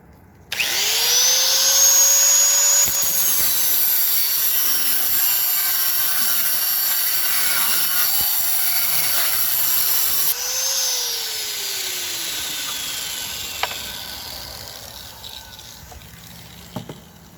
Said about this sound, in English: I'm going to cut right above here right now to get the threaded rod the size that I need it.